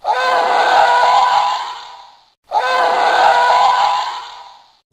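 Two long roaring whooshes of Star Wars TIE fighters screaming past, played as effects from a 2015 lightsaber play-a-sound storybook; each loud pass swells and then fades, with a short gap between them.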